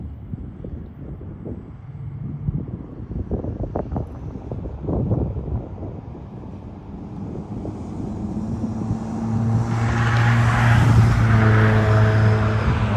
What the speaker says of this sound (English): Here we go, traffic.